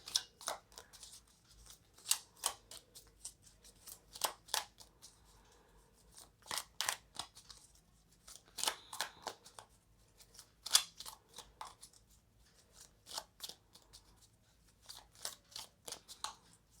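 Tarot cards are shuffled by hand, producing a run of crisp, irregular card slaps and riffling flicks in short bursts with quiet gaps between them, close and fairly soft.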